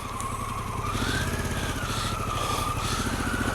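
A motorcycle rides along a rough country road with broken-up patches and loose gravel, its engine droning steadily and loud throughout, with a rising and falling whine as the rider varies speed.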